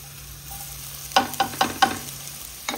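Garlic sautéing in oil for Goan pork sorpotel: a constant frying hiss punctuated by several loud stirring scrapes and sizzles in quick succession, close up with no speech.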